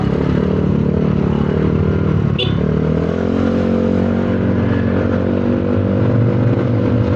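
A Honda Beat motorcycle engine runs steadily with a loud continuous hum and a brief clatter partway through, close by with no talking.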